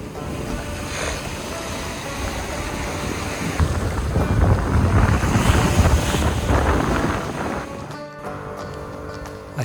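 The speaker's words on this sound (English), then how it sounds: "I turned the volume down here again because of the wind" Wind gusts across a beach on Culebra Island, Puerto Rico, with steady surf rolling behind; a broad, roaring wash that swells louder in the middle and then drops away near the end.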